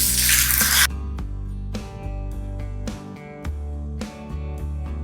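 Curry leaves and ginger sizzle loudly in a pan for a mushroom korma, a bright hiss lasting under a second before music takes over.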